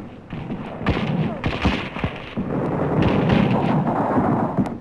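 WWII combat on Hill 92, with gunfire and artillery as a tank climbs a steep escarpment under sniper fire: sharp repeated cracks and heavy thumps over a dense, continuous battle rumble, loud and close.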